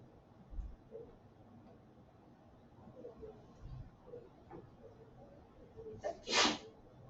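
A single sharp sneeze bursts out near the end, loud and close, after a stretch of quiet room tone with faint background murmur.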